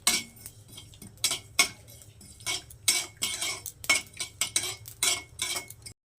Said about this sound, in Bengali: একটা সুন্দর গন্ধ বেরোনো পর্যন্ত এটাকে খুব ভালো করে ভেজে নেব।